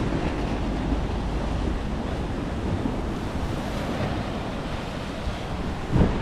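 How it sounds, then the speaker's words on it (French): Big sea waves breaking against a pier on the Welsh coast, a loud continuous rush of surf mixed with wind buffeting the microphone and a brief gust near the end. "Là il y a des sacrées vagues qui viennent se jeter là."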